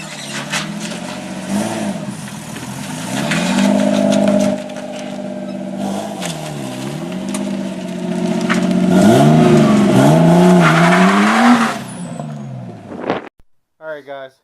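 A Nissan 240 with a welded differential revs hard and accelerates, its engine rising and falling through several loud, close pulls before cutting out near the end with a few short knocks.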